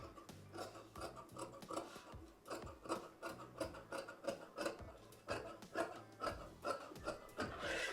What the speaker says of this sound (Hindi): ये इस प्रकार से इसको इक्वली काट लेते हैं